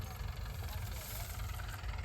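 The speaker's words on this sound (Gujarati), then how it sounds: "આ બધું ટ્રેક્ટર હાલે છે" A steady, low tractor engine rumble runs without a break, close by in a groundnut field during harvest, with a faint vibrating drone over it.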